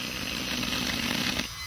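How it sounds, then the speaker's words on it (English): Dremel rotary tool cutting into hard wood, a continuous close, loud grinding whine lasting about a second and a half before cutting off. "I've never used a Dremel before."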